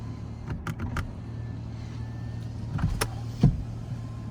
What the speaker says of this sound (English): Testing the windows, up and down.